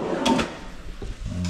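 A drawer runs along its metal drawer guide in a cabinet under construction, giving a couple of close rolling clunks and a slide, then a low rumble as it settles, with no talk.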